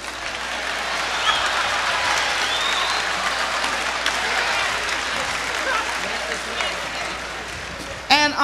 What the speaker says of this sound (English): great big round of applause for Willie Mays?